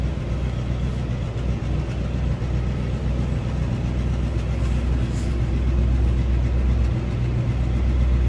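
1962 Cadillac Series 62 convertible with a 390 V8 idling, a steady deep low rumble heard close and continuous with no talking.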